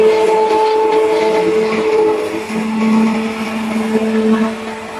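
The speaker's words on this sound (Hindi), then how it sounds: "मैंने इसे अच्छी तरह शेक करने के लिए ये हम थोड़ी देर ग्राइंडर इस्तेमाल करेंगे" An electric grinder whirring steadily as it mixes a handmade soap mixture, a loud continuous motor drone with tonal whine that shifts slightly in pitch partway through.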